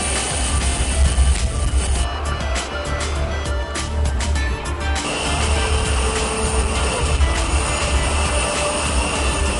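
The Chadian president's airplane sits on the tarmac before departure, its engines giving a loud, steady roar that fills the whole stretch without letup.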